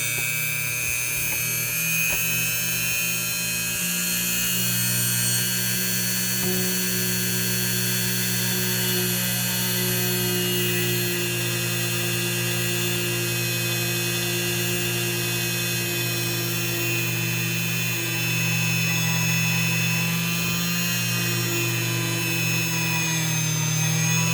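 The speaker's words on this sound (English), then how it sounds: "This is a 1mm drill bit." A small drill with a 1mm bit drilling pearls whines steadily for a long stretch, a high-pitched motor hum with layered tones that barely changes, with no talking.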